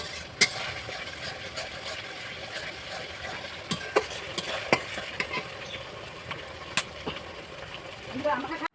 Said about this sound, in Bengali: আদা রসুনে যতক্ষণ গন্ধটা না যাবে ততক্ষণ কিন্তু জিনিসটাকে কষিয়ে যেতে হবে